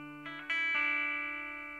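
Electric guitar playing a brief answer phrase from a riff: a few quick picked and hammered notes ending in one sustained note that rings out and fades, clear and alone.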